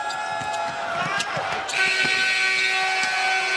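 A basketball arena horn sounds the end of the first half of a Pitt Panthers home game against the Saint Francis Red Flash, a loud sustained blare over crowd noise and a commentator's voice.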